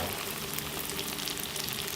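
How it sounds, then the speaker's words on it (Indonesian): Banana fritters sizzle in hot oil in a small frying pan, giving a dense, continuous crackle that stays close and steady throughout, with no voices. "Oke, saatnya kita goreng."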